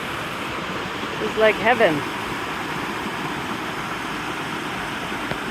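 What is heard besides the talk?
small waterfalls and pools in the jungle, Colombia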